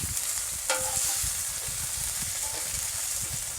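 Browned rabbit pieces hit a hot pot and sizzle steadily, with a brief clatter as they land, close and continuous, with no talking.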